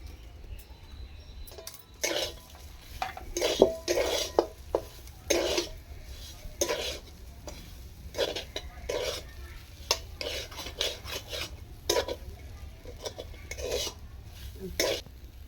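Kochuri filling is stir-fried in a pan, with irregular bursts of scraping and clattering from a spoon against metal over a faint background sizzle, close by and otherwise quiet.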